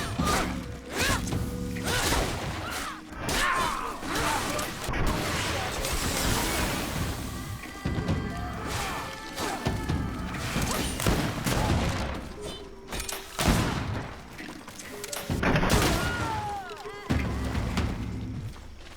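A grenade blast goes off amid a chaotic battle in the fantasy RPG GreedFall, with bursts of combat noise, clashing and voices shouting throughout.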